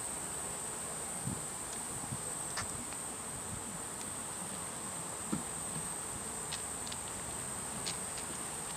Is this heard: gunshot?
no